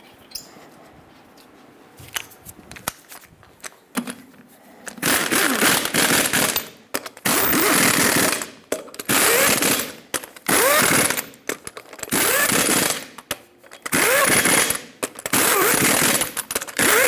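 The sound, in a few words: lug nuts torqued on a Ford E-350 front wheel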